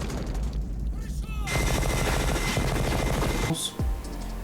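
Dense, heavy gunfire rattles through a raid scene in the 1980s action film Predator, with bursts and sustained volleys packed together under a roaring mix. Voices are partly audible in the din.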